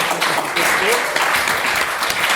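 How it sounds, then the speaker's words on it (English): Loud sustained applause from a large audience, a continuous wash of clapping with a few faint voices or cheers mixed in. "let's give Isaac Rose a massive round of applause"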